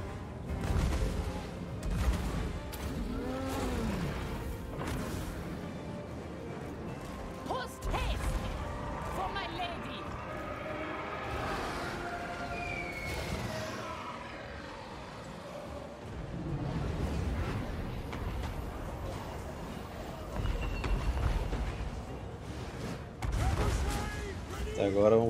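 Repeated gunfire bursts and crashing impacts from a Total War: Warhammer 3 battle, Bretonnian siege of a tower, layered with game music and effects, with someone talking throughout.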